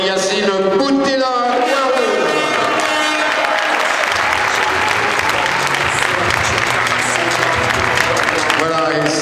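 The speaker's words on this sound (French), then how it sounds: "Vous allez l'applaudir, bien sûr, Yacine Boutella." Loud, sustained applause from a crowd at a boxing gala in Saint-Avé, dense clapping filling the whole stretch with some voices mixed in.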